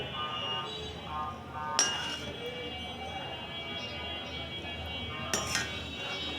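Oily fried okra lifted out of a pan, two sharp metal utensil clinks against the pan over a low steady sizzle, fairly quiet and close.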